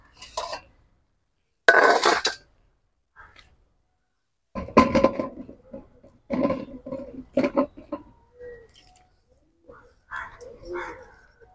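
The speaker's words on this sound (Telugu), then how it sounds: "ఇదిగోండి ఇంకో డిప్పలో పోసుకుందాం." Freshly harvested eggplants tumble into a basket outdoors in a few separate loud clattering pours, with knocking and bumping between bursts and brief quiet gaps.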